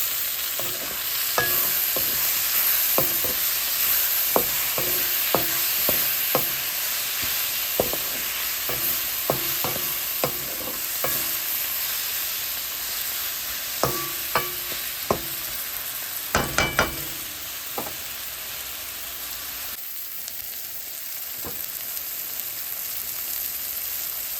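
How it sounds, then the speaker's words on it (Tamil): Cabbage and tomato sautéing in a pan, a continuous soft sizzle with repeated light clicks and scrapes of a spatula stirring, close and without talk. "இப்போ கோவா வதங்கினோடனே தக்காளி பழம் போட்டு வதக்கி கொள்ளுவோம்."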